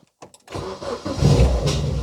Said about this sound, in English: I'll actually try starting the car just to see what happens